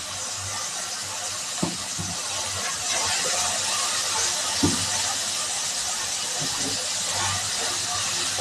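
Tomato added to vegetables frying in a pan at home, giving a steady loud hiss of sizzling with a couple of soft clunks, while a voice talks over the cooking.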